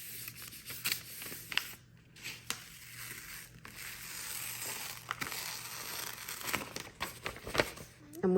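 Sheets of copy paper are crumpled and rubbed against a stencil plate to wipe it clean, giving irregular close crinkling and rustling bursts throughout, with a voice talking intermittently over it.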